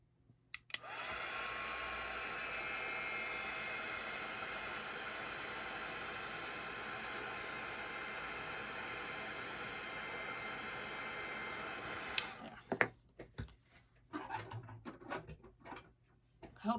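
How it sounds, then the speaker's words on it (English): A heat gun blows hot air while paper butterfly embellishments are made, a steady close hiss and whoosh held for about eleven seconds before cutting off into light handling clatter. "I'm going to use my heat gun"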